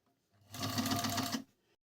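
A four-thread overlock sewing machine stitches through four layers of fabric in a single quick, close run of rapid whirring stitches lasting about a second.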